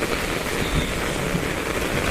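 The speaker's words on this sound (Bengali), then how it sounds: "কিভাবে যে বৃষ্টি পড়ছে।" Steady heavy rain pours down during a cyclone in Banshkhali, Chittagong, in a dense, continuous wash of noise, loud and close, with no voices over it.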